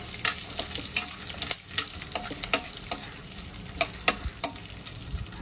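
Dry fruits fry with spices in a pan for a coconut-milk pulao, giving a steady close sizzle broken by repeated sharp scrapes and clinks as they are stirred.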